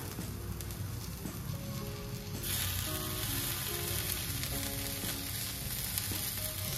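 Stuffed chillies (bharli mirchi) frying in a pan, a steady close sizzle that grows louder partway through, with faint stirring clinks and no talking.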